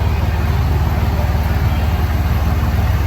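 Acura RSX idling through a full custom exhaust, a loud, close, steady low burble with an even pulsing rhythm throughout.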